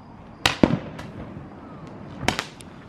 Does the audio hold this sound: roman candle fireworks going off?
yes